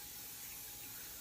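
Baking oil sprayed from a can onto a cake pan lined with parchment, a steady close hiss running unbroken for just over a second with no talk.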